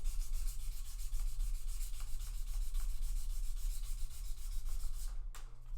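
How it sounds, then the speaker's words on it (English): Guitar frets are polished with 2000 grit sandpaper in a steady, rhythmic back-and-forth rubbing, close and fairly quiet, continuing evenly before a short pause near the end. "It's just polishing the metal."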